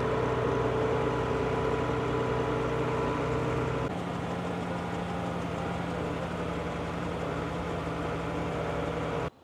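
A farm tractor engine idles steadily at close range, a low droning rumble with a constant hum that drops slightly in pitch partway through, then cuts off abruptly at the end; no talking.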